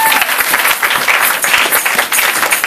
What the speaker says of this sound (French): Acclamons très très fort le Seigneur.